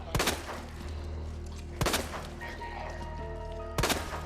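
Three sharp, loud handgun shots ring out about two seconds apart as Claire fires at a zombie in a library in Resident Evil on Hardcore difficulty. A low, steady game ambience hums between the shots.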